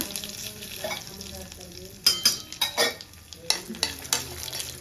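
Dried red chillies and cumin seeds fry in a pan with a soft sizzle, while a spoon stirs them in a series of close scraping knocks against the metal.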